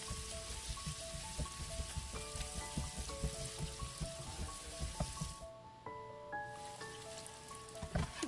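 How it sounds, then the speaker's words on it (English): Chopped onion sizzles and fries in a pan with garlic, with steady crackling and occasional stirring scrapes close by, continuous throughout without talk. "And I added the onion. And we just keep stirring until it's a little translucent."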